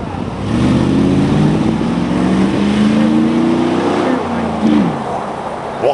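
A restored Chevy short-bed truck from Tennessee cranks up and revs, its loud, close engine rising in a sustained roar with a climbing pitch before easing off near the end.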